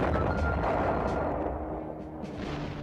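Heavy French siege cannon pound a city wall to open a breach, a continuous low, rumbling barrage of booming artillery fire that sounds dense and somewhat distant.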